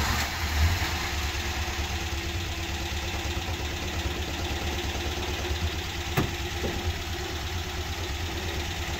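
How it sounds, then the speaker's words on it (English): A 1964 Dodge Dart with a Slant 6 engine idles steadily at close range, a continuous low mechanical rumble with no voices over it. "we'll give her a crank over once she's back level on the ground"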